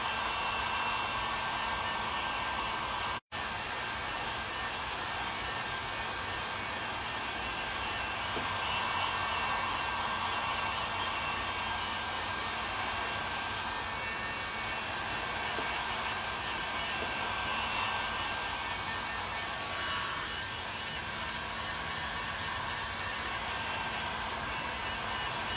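A heat gun blows a steady, loud roar of hot air over foam cosplay sword material in an open garage, running continuously with one brief dropout.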